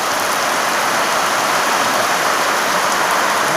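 Storm rain falls hard in the morning, a dense, constant roar of water on surfaces that stays loud and unbroken, with no one speaking.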